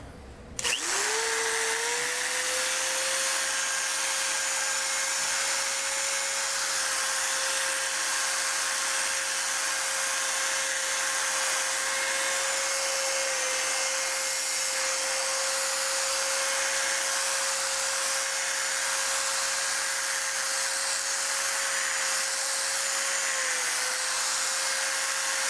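A power tool with a 3000-grit disc sands a Smart ForTwo headlight. It spins up sharply at the start, then holds a loud, steady, whining drone up close for the rest of the time, with no talking.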